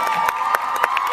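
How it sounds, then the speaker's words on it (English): Crowd applause and cheering at an Olympic torch exchange in Perth, with a steady wash of clapping and shouts punctuated by sharp, rhythmic accents, close and loud. "let's get ready with that applause"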